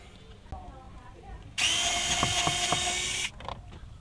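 Power drill backing screws out of the blower motor on a Nissan NV1500, a loud steady whirring burst of about two seconds between quieter handling noises, with faint background.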